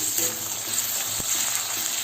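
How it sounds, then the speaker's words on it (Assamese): Ginger garlic paste sputters in hot oil in a pan for a dry fish curry, a short, steady close sizzle with one brief knock in the middle. "আদা নহৰুখিনি কেঁচা গোন্ধ নোযোৱালৈকে ভাজি ল'ম।"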